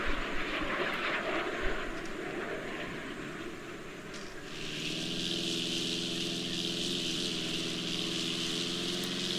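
A light airplane's engine roars in GTA San Andreas as the plane starts taking off by itself, first a rough churning drone, then a louder steady whine with strong harmonic tones that holds to the end.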